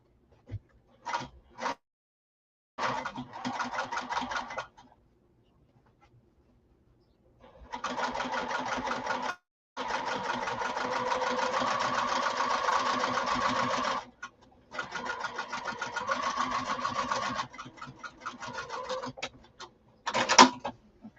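Sewing machine stitching a slouch bag at a long stitch length, running in several bursts of varying length with short pauses between, close and steady, alone with no talk.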